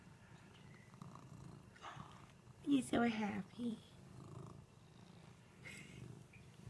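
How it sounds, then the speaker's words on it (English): A black kitten purrs softly and steadily at close range, a low continuous rumble running beneath a person's quiet affectionate talk. "Are you purring?"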